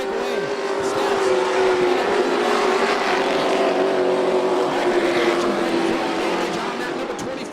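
Asphalt pro trucks race on a dirt track, engines droning in a loud, sustained roar as the pack works through the turns, with a race announcer talking over the noise throughout.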